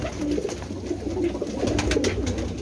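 Pigeons of several breeds coo in a short burst of soft, repeated low calls, close by, with faint background noise and no talk.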